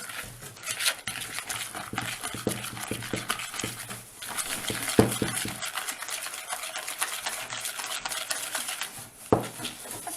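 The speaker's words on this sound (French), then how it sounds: "On va bien y arriver à mettre du beurre dans les œufs" Butter being worked into eggs by hand for a cake, a continuous wet scraping and stirring in a bowl with utensil clinks, close and busy throughout with a few sharper knocks.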